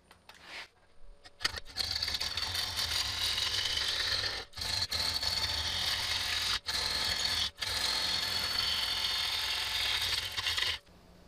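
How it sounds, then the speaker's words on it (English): A wood lathe faces off a bowl blank, the tool scraping and rasping steadily across the spinning wood in long passes, broken by several brief pauses and a quiet start, close and moderately loud. "have to flatten out the face of this bowl blank first"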